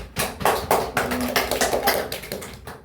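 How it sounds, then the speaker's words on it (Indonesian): A primary school class applauds a classmate during an Indonesian language lesson: a short burst of uneven, fairly close hand claps from a small group, lasting a few seconds with faint voices underneath. "tepuk tangan untuk Cynthia"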